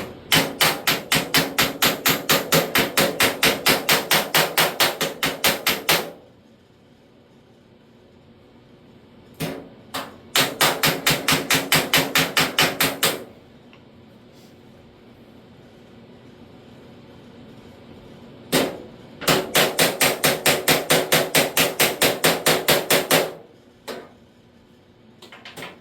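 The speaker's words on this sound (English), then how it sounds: "There's a little bit more hammer and dolly work to be finished on here." A hammer and dolly shape the lower door skin on the passenger side of a car, striking in rapid, evenly spaced metallic bursts. Three long runs of blows are separated by pauses with a few single taps, loud and close.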